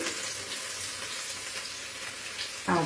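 Chopped garlic frying in hot oil in a wok, a steady close sizzle with light stirring, ending in a sudden louder burst as more ingredients are added.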